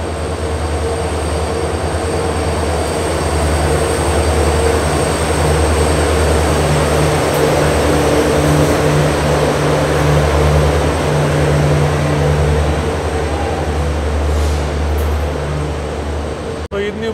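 A WAP-7 electric locomotive, engine 39397 from the Hubballi loco shed, hauling the Hubballi–KSR Bengaluru Jan Shatabdi Express idles loudly at a station, with a steady low hum and drone throughout.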